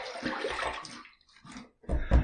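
Water splashed onto the face before a shave with a stainless steel razor, heard as a few wet, close splashes and sloshes, with a short run of splashing, a pause, then two louder splashes at the end.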